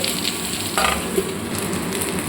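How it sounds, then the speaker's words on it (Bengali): Vegetables for a vegetarian mustard dish with stems fry in a covered pan over a low gas flame, giving a steady, soft, even sizzle throughout with no voices. "গ্যাসটাকে একদম লো ফ্লেমে করে এটা ঢাকা দিয়ে একটু ভাজতে দেব"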